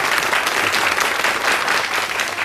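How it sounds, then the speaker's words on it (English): A 1987 television quiz show's studio audience gives contestants a loud, dense burst of applause, continuous and close throughout. "Let's all go crescendo with the applause for our contestants and wish them luck today."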